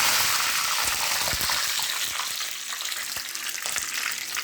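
Curry leaves hitting hot coconut oil in a pan crackle and sizzle loudly, a dense spitting hiss with sharp pops that eases slightly as the frying settles.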